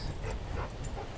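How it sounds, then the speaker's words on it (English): A dog whimpers and gives small yips, fairly faint against a steady low outdoor rumble, with short high-pitched cries scattered through a brief moment. "That is a dog."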